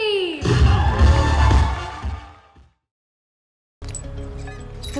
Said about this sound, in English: please give a big cheer as they come up onto the stage